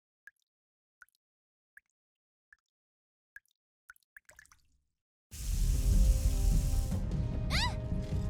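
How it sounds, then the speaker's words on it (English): Water drips from a ceiling in the video game Memories Teller: about eight distinct, evenly spaced plops ring out in near silence, then a loud continuous wash of sound takes over with rising chirp-like tones. "Water's coming from the ceiling!"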